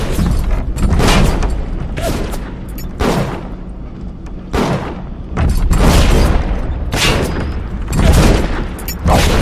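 Gunfire erupts in the video game BioShock Remastered, with repeated loud bursts of shots and booming impacts arriving in clusters across the whole stretch, close and dense.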